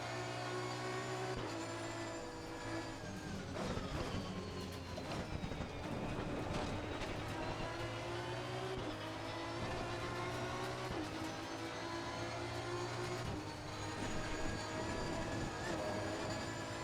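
A racing game Aston Martin V12 at Bathurst drones steadily throughout, its pitch climbing and dropping with gear changes as the car bounces over the track, with no talk over it.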